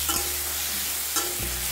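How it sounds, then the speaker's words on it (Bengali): Pieces of bottle gourd fry in a pan with a steady, close hissing sizzle, broken by two brief scraping stirs, and no talking. "এবার হালকা করে লাউয়ের টুকরোগুলো ভেজে নিচ্ছি।"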